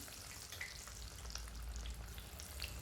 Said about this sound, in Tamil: இப்போ ஒன்றுன்னா எண்ணெயில் போட்டுக்கலாம்